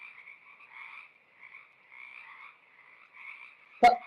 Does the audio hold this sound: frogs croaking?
yes